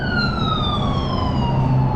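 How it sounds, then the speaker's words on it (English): Loud wailing sirens from an ambulance and police car passing close by, a steady falling tone over heavy road rumble. "it's like the 4th ambulance and police car going by today"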